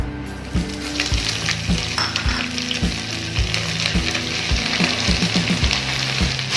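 Steady crackling sizzle of mint leaves frying in a little hot oil, with rhythmic low thumps from a pan or utensil being stirred, close by.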